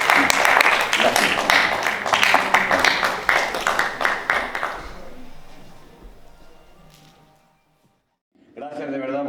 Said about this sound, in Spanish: Gracias de verdad por el aplauso